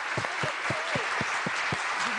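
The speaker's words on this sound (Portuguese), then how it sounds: "Se não tens inveja, exatamente, merece aplausos." Rhythmic handclapping during an Angolan TV interview: about nine sharp, evenly spaced claps in quick succession, close and steady, over a low background hum.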